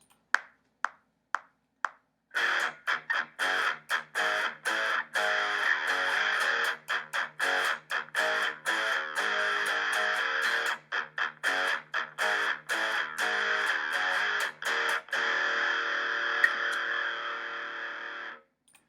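Electric guitar played through a Line 6 Helix preset and recorded into GarageBand, a few sparse plucked notes, then a run of choppy, rhythmic distorted chords with sharp stops, up close and alone.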